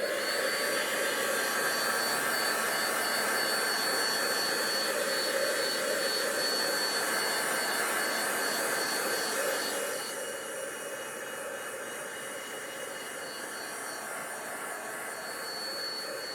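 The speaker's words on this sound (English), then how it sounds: "give this a wee bit of a dry before I put my heat embossing on" A heat embossing tool blows hot air in a steady, loud, continuous whoosh during stamping and card crafting. Its tone drops slightly partway through, and it carries on alone with no talking.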